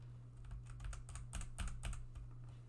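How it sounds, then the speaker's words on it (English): Rapid typing on a loud, clicky mechanical computer keyboard, irregular bursts of sharp close clacks with a steady low electrical hum underneath. "I need some keys that aren't as loud, aren't as click-clacky, less mechanical,"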